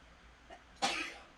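A single short sneeze bursts out close by, sharp and breathy, after a faint preceding intake, in an otherwise quiet room.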